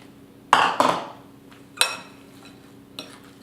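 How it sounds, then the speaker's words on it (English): A spoon clinking and scraping in a bowl while mixing carrot, zucchini, apple and banana muffin batter with walnuts and oat flour, with a few loud close strokes spaced out, with no talking. "Then we're going to mix it all up."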